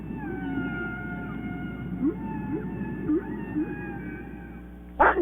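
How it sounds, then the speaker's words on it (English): Whales call underwater in long, wavering tonal moans and rising whoops over a dense low rumble, with a louder burst near the end; there is no talk. "we can now listen to outer space and hear whales talking underwater"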